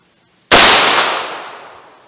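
A single sharp .357 Magnum gunshot from a Smith & Wesson 686 revolver with a 4-inch barrel cracks after brief silence, then decays over about a second and a half, loud and close with no talking.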